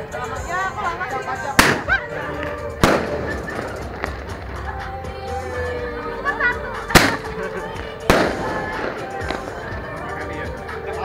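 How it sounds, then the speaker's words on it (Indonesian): Sharp fireworks bangs burst out a few times at irregular intervals while people talk and chatter in the background at a New Year's Eve rooftop barbecue party. "Uji nyali pasang kembang api ya."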